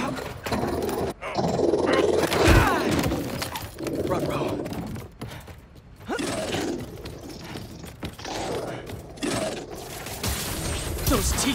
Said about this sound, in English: Nice doggy kitty robot!